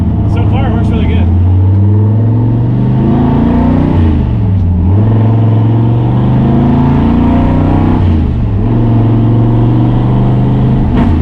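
A Ford F100 pickup engine with a McLeod lightweight aluminum flywheel revs loud and close, rising and dropping through several pulls with a throaty, rumbling tone, with voices talking over it.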